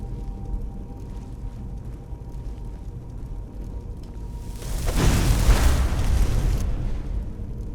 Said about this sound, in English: Just setting off a big explosion, seeing if it draws anybody.